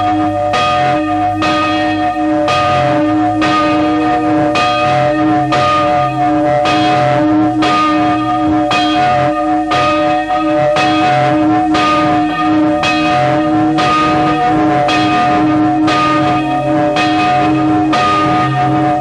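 A church bell at a Carthusian charterhouse monastery, Notre-Dame de Portes in France, tolls in a slow, steady rhythm, loud and resonant with long ringing overtones and no voices.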